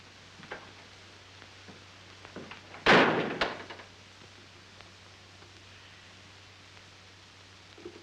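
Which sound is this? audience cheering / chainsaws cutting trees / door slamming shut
door slamming shut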